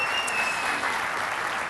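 Audience at a school boards association keynote applauding, a dense, steady wash of many hands clapping close and loud throughout, with no voices over it.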